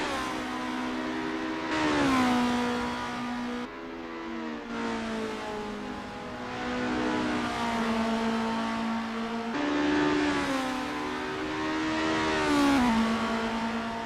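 Formula race cars at full throttle on the Mont Tremblant circuit in Assetto Corsa, loud sustained engine whines climbing in pitch, then dropping sharply at each gear change, again and again, with no talk.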